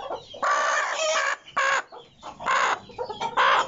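An Aseel hen clucks close by in a series of four or five short, loud bursts separated by brief pauses, with no other sounds around it.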